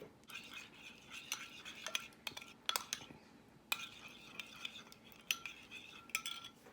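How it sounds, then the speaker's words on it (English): A spoon mixes a sauce of sweet chili, sesame oil and brown sugar in a small dish, giving quiet, irregular clinks and scrapes of metal against the bowl, close and soft with no talking. "I'm just gonna mix this together."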